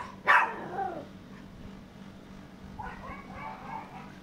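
A dog gives one sharp bark at close range, followed by quieter, fainter barking further off against a low background hum.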